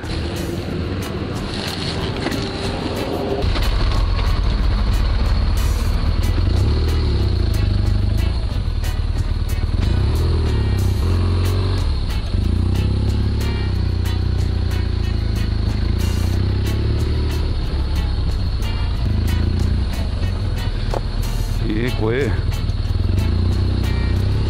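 BMW R1200GS motorcycle engine idling and running after a start, a steady low rumble that holds close and continuous outdoors, with someone speaking over it at times.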